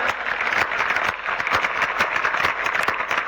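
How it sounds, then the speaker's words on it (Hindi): A large crowd at a stand-up comedy set at a Nokha kavi sammelan applauds in a dense, continuous wash of clapping, steady and fairly loud throughout. "जो अपने माता पिता से प्यार करता है वो ताली बजाए।"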